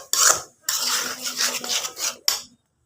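A utensil scrapes and clatters against a pan while stirring noodles with spices, in two close, busy bursts with a short pause between and a brief final clink.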